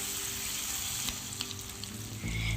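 Onions fry in oil in a pan, a steady close sizzle with light crackles, ending in a louder low rumble as something is moved or added.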